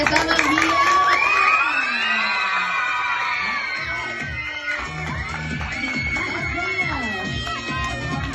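Parents at a children's dance event cheer, whoop and shout loudly as one crowd, with children's voices mixed in, a dense, steady roar that stays close and lively throughout.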